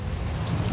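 A vehicle drives through water in Death Stranding 2, with a dense rushing, splashing wash and low rumble, loud and continuous across a brief moment, with no talk.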